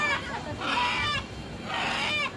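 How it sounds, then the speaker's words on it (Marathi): Chickens held by hand on a village farm give short agitated squawks in two bursts, close and fairly faint, with a voice in the background. "त्या कोंबड्या पकडल्या आहेत"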